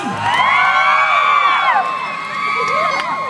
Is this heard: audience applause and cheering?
yes